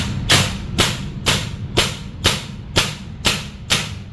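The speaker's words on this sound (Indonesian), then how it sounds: "Oke, tinggal tembak aja." Semi-automatic PCP air rifle fired in a steady series of about eight sharp cracks, evenly spaced roughly half a second apart, loud and close with no talking.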